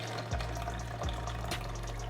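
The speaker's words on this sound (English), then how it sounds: "Then I'm going to go in with the hot water, just not for too long." Hot water pouring into a cooking pot while making efo riro, a steady close splashing rush with a few brief louder surges, no talking.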